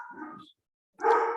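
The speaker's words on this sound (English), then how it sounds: "how bad are those dogs coming through?" Dogs barking during a remote conversation, two loud bursts of barking separated by a short silence, fairly close and with no voice over them.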